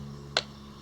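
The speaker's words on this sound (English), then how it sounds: "Tree is going to clap twice." A single sharp, close hand clap rings out once against a quiet room hum during an echolocation game played at a night-animals camp session.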